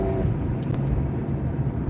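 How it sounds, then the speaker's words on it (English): A car engine revving steadily as it accelerates through a turn in traffic, a continuous close low rumble with no talk over it. "You heard the motor rev up."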